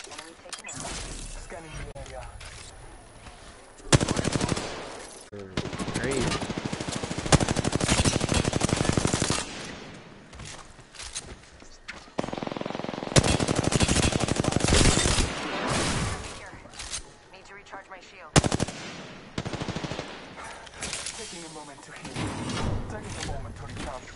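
Video game gunfire in a ranked match, with rapid machine-gun bursts and bursts of sustained fire that come and go over excited talk from players.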